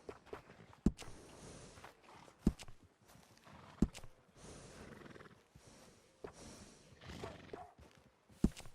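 Horse snorts and hoof steps in Red Dead Redemption 2, heard near and fairly quiet, with several sharp transient knocks and breathy snorts spread through a soft background.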